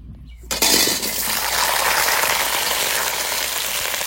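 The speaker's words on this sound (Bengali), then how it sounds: "এবার আলু ভেজে নেবো।" Potatoes drop into hot mustard oil in a wok and set off a sudden loud, crackling sizzle. It holds steady, close and strong, after a brief quiet start.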